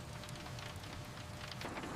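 Steady rain falls and patters on surfaces, a constant soft hiss with scattered drop sounds and no voices.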